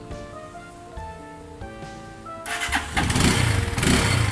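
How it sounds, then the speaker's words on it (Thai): A 2018 GPX Demon 150 GR motorcycle on its stock exhaust fires up after a quiet stretch of steady tones, catching at once into a loud, rough idle that holds close to the microphone. "มาฟังเสียงท่อเดิมกันหน่อยดีกว่านะครับ"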